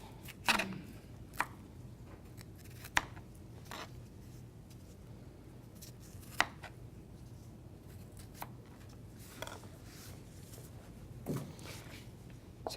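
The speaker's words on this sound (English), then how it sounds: "So cut them as you're doing for julienne style, approximately 1/4 inch in width there." A knife chops vegetables into julienne strips for corn and avocado salsa, sharp irregular taps on a cutting board spaced a second or so apart, fairly quiet against a faint room background.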